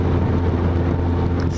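The engine of a newly bought sporty motorcycle runs as a steady, loud, low rumble at close range. It holds an even idle-like drone for a moment, with no voices over it.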